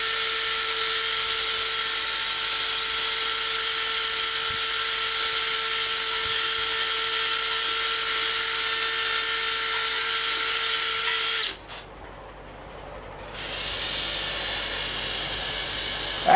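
Power drill spinning a wire brush to clean rust from the distributor bore of a 377 (383) engine block, a loud continuous whine for about eleven seconds, a brief pause, then the drill starting up again.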